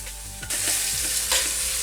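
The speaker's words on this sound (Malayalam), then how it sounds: "അതൊന്ന് ചൂടായി വരുമ്പോഴേക്കും ഈ സവാള കൂടി ഇട്ട് കൊടുക്കാം" Sliced onion tossed into a hot pan with ginger paste sets off a loud, sudden sizzle about halfway through, then a steady, dense frying hiss with faint stirring scrapes and no voices.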